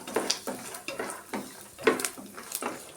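Peanuts and curry leaves fry on low flame in a pan for peanut sambar, a soft steady sizzle broken by repeated scraping and stirring strokes of a spoon against the pan, close and moderately quiet with no talk.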